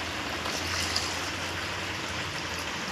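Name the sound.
water poured into the fish curry pan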